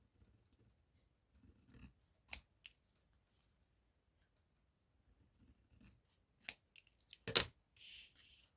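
Scissors trim coffee-dyed cardstock in several crisp, separate snips between quiet rustling and handling, close and fairly soft overall.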